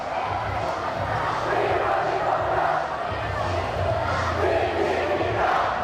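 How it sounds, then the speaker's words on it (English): A basketball crowd at a Riverton high school game roars and cheers in a steady, dense wash of voices that swells and holds for several seconds, with no single voice standing out. "The Riverton crowd is definitely into this game."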